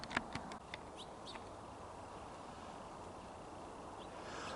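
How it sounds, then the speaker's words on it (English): Songbirds in a January field on Truax Island, Oregon, give a few faint, scattered chirps and tweets, mostly in the first second. A quiet outdoor hiss fills the rest of the clip. "But there still are a lot of songbirds, probably gleaning grains or seeds out of the field."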